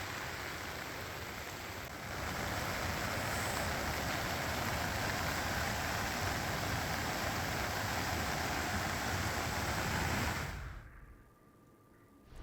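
Floodwater from the Son river pours over a road bridge on a highway, a dense continuous roar of rushing water that holds steady and loud before cutting off abruptly near the end.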